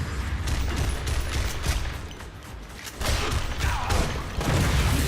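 The Punisher in the game Marvel Heroes fires weapons, including an Explosive Rocket, in rapid combat: dense, repeated bursts of gunfire and blasts that swell and fade in waves, with no voices over them.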